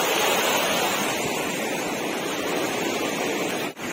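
A small waterfall of glacier water in a stream in Kashmir gives a steady, close, full rushing roar that holds unbroken throughout.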